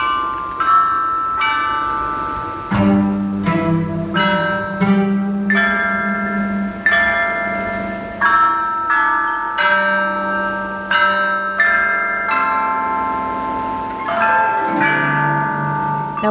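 An orchestra plays a replica set of Marquis Yi's bronze chime bells: a slow melody of clear, ringing struck tones, each note sustaining and overlapping the next, with lower bells joining partway through.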